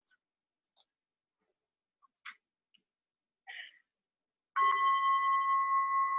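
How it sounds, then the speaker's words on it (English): A bell rings once to mark the start of a timed meditation exercise, its bright tone ringing out steadily after a few faint taps and rustles in a quiet room. "I'm going to ring the bell now"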